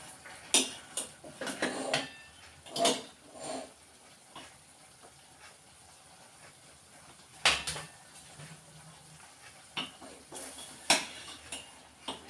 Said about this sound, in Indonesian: Perlu diaduk lagi.